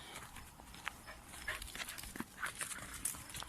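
A dog pants quietly in quick, breathy puffs during an outdoor walk while capers are gathered, close but faint, with light rustling and footsteps around it.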